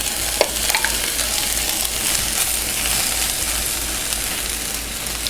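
Brussels sprouts and butternut squash fry in a pan with a loud, dense, continuous sizzle close to the microphone. A few light clinks of stirring come through near the start, and no one speaks.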